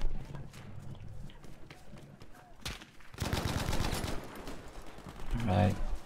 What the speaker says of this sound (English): Did I hear a gunshot from over here?